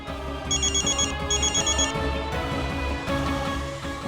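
A telephone rings in bursts of bright trilling electronic tones, repeating in a steady pattern with brief gaps, close and loud, with no one speaking.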